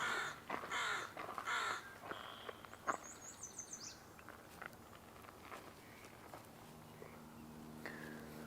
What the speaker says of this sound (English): hooded crow. Oh, that's cool.